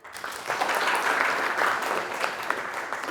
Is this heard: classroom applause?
yes